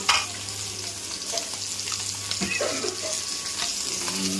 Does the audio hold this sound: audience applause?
no